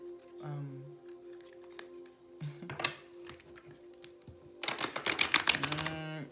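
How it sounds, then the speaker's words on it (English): A few scattered tarot card flicks and slides, then a dense burst of rapid riffling near the end, close up, with a faint voice murmuring in places. "Let's see if I can shuffle it."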